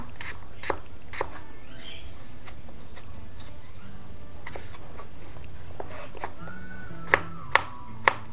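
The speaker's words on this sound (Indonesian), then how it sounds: "Kita potong bawang putihnya." A kitchen knife chops garlic on a board for a home-style bean sprout stir-fry: a handful of sparse, sharp taps spread across the clip, with a few quick chops close together near the end, over a low steady background hum.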